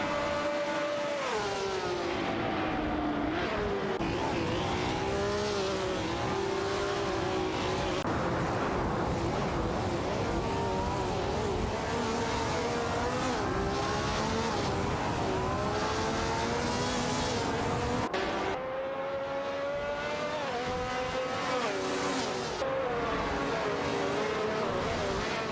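A BRM and a Lotus 49 race car in a racing video game scream along at high revs amid other cars, their engine notes sweeping up and down through gear changes, steady and loud, with a brief dip and no talk.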